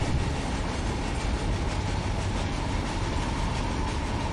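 A BNSF freight train runs in Run 8 Train Simulator, a steady, moderately quiet rumble of rolling stock and rail noise with faint clickety-clack, continuous and without speech.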